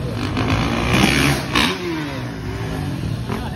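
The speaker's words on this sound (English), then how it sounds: "is on that bike doing a wheelie, the black bike" A motocross bike revs loudly at a dragstrip, its engine note rising and falling close by and continuously.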